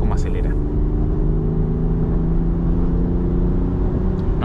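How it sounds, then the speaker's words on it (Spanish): A 2023 Land Rover Defender's engine drones steadily and loudly as the vehicle accelerates, a sustained low rumble with a smooth, even tone and no distinct gear changes. "Fíjense además cómo acelera"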